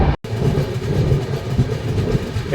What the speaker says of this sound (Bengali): কালনা থেকে ট্রেন ছেড়ে দিয়েছে